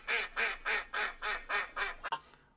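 A duck quacking seven times in a steady, evenly spaced series, loud and close, ending with a couple of short clipped squawks.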